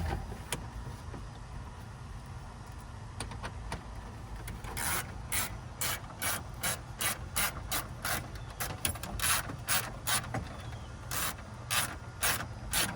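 A ratchet wrench tightening a fastener on a car's broken dashboard bezel, sparse clicks at first, then a steady run of sharp, close, rhythmic ratcheting strokes.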